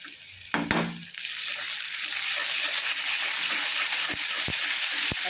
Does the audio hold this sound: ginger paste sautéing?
yes